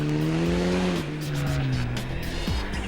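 Rally car engine revving loud and close with a high whistling turbo note, pitch sliding down as it passes and fades, a sharp shift near the end, on a snowy forest rally stage.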